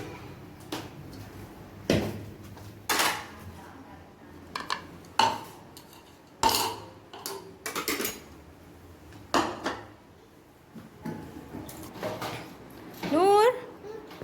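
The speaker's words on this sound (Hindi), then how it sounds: "तो वहाँ हम ये किचन में सारे बर्तन वगैरह रख देंगे" Dishes, pots, pans and cutlery being moved and set down in a home kitchen during iftar preparations, scattered clinks and clatters with a drawer-like bump, close by, with voices talking in between.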